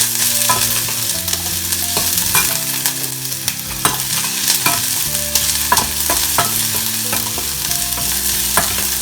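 Onion frying and sizzling in a pan for kulith pithla, Maharashtrian horse gram flour curry, with a steady close hiss broken by regular scraping strokes of a spatula through the whole stretch, no voices.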